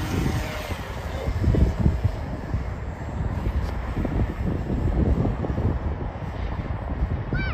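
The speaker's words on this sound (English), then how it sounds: "here is where I flew the plane for the first time before the snow." A radio-controlled plane's small engine drones steadily overhead on a windy day, mixed with gusty wind buffeting the microphone, with no talking.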